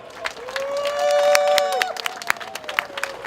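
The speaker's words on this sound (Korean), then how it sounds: "이분들을 위해서도 박수 한번 주십시오." Outdoor campaign rally applause near a subway station, scattered claps and crowd noise mixed with a tonal whistle or cheer that rises and holds briefly, the clapping uneven and patchy rather than a full ovation.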